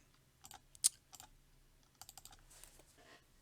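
Typing on a computer keyboard: scattered, fairly faint key clicks in short irregular bursts, with one sharper tap standing out, close by in a quiet room with no talking.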